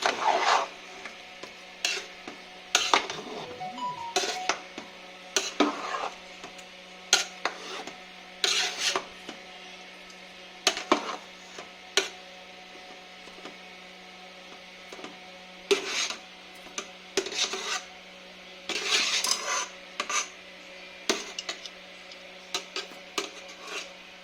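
Shahi pulao rice mixed with sugar being turned by hand in a pot: scattered short scraping, rustling bursts over a constant low hum, with no voices.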